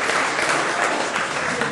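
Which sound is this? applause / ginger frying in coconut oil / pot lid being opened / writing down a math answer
applause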